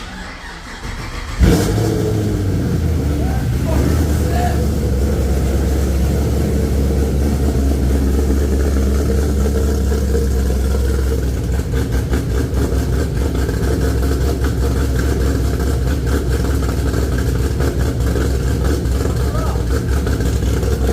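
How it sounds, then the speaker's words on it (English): An LS3 V8 in a Camaro fires up on its first start through open long-tube exhaust, catching with a sharp burst and then settling into a loud, steady, lumpy idle with revs rising and falling close by. "Okay, so Casey tells me to rev it up, and I do rev it up"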